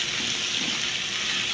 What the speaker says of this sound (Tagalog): Tapos maglalagay tayo ng tubig para mapakulaan yung giniling, para lumambot.